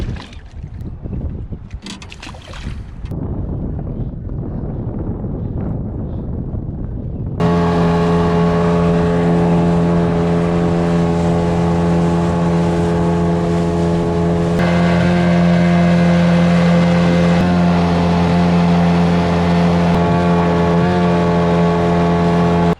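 A Yamaha outboard motor on a boat, still running after heavy abuse, kicks in with a loud, steady droning hum rich in tones. It keeps going close up and level after a few seconds of wind and water noise.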